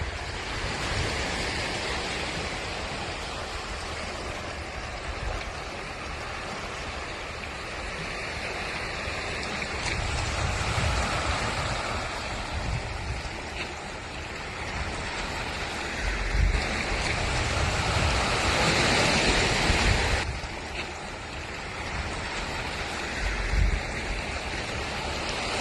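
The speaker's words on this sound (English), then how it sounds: "The waves are big and strong," Big, strong sea waves along the rocky Hong Kong coast at Wang Chau, a continuous roaring surf wash with repeated heavier surges, mixed with wind buffeting the microphone.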